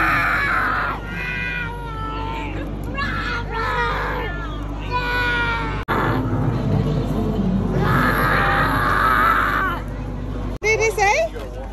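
A little girl imitates a dinosaur roar with a run of shrill, drawn-out screeching cries, close and loud, over a steady background murmur of other people.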